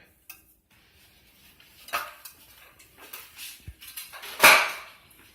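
Greens being spread around a cooking pan: scattered light scrapes, clinks and rustles of utensil against metal, sparse at first and then building to a sharper clatter near the end, with no talk.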